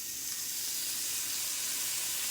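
Minced garlic dropped into hot oil, giving a soft, steady, close sizzle with no other sounds.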